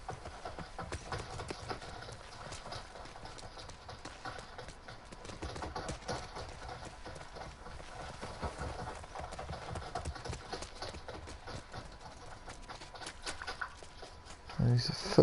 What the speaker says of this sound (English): And these footsteps are so fucking heavy.